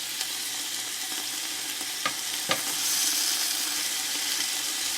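Short ribs sizzling on a Blackstone griddle, a continuous close hiss broken by a couple of sharp utensil clicks near the middle.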